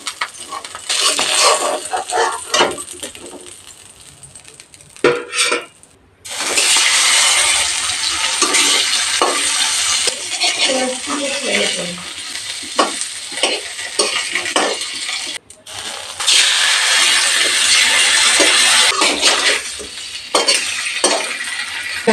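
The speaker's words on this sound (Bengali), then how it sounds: "পাবদা মাছ একদম হালকা ভেজে নামিয়ে নেব" Pabda fish frying lightly in mustard oil in a kadai, a loud, continuous sizzle with scraping stirs and utensil clinks, briefly cutting out twice before the frying hiss resumes.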